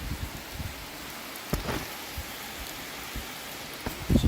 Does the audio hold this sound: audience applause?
no